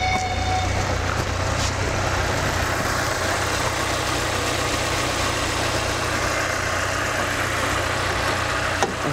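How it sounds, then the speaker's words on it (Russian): A Lada Niva engine with its stock camshaft idles steadily and close up, a continuous low rumble that runs unchanged throughout with no talking over it. "Вал сток."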